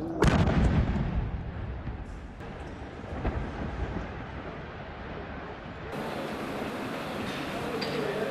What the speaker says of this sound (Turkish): Önce dumanlar yükseldi, ardından bir anda patladı.